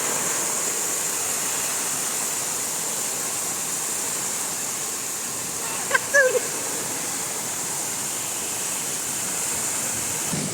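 Floodwater rushes across farmland after heavy rain during a flood in Kankavli, a loud, steady roar of churning water heard up close, with a brief clatter midway and no talking.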